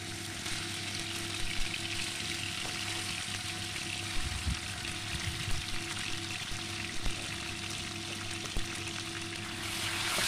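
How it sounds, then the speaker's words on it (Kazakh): Steady, dense crackling sizzle of meat frying in hot oil, continuous throughout with a few soft clunks and stirring sounds; no voices. "Кейін табамызға және қазанымызға сұйық май құйып, етімізді әбден қызарғанша қуырамыз."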